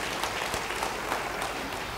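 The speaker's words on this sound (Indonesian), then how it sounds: "Beri tepuk tangan yang baik bagi dia." Church congregation clapping during a sermon, a continuous dense wash of many hands heard throughout the short stretch.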